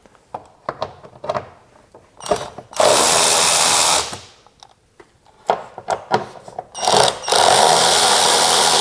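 Hose clamp screws being loosened with an 8mm socket on a long extension on a Chrysler 200 3.6L V6, heard as two loud power-tool whirs with clicks and rattles of handling between them.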